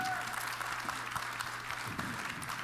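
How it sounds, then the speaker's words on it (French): An audience at a live question session claps steadily for a short stretch, with a light murmur of voices mixed in. "Peut-être j'aimerais ça qu'on les applaudisse quand même aussi"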